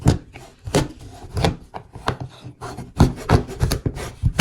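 A knife cuts through homemade chocolate brownies in a pan, giving a run of close, scraping chops and rubbing strokes in an uneven rhythm, with no talking.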